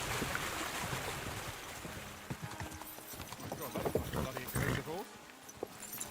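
Horse hooves clip-clop steadily over ground while riding in the video game Kingdom Come: Deliverance II, close and rhythmic, with flowing water and soft ambient noise beneath.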